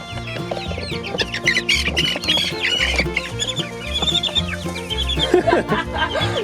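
Several chickens cluck and squawk loudly and close by outside their coop, a dense overlapping chorus of agitated calls that runs continuously with no speech.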